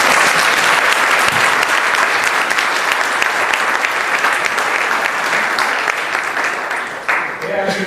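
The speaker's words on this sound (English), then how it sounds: "I'd like us to just give them a round of applause." Loud, sustained audience applause for young performers on an academy's opening night, a dense continuous roar of many hands that tapers slightly at the end.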